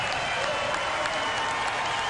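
A Staples Center basketball crowd applauds on its feet, a dense, steady roar of clapping and cheering that fills the whole stretch without a break.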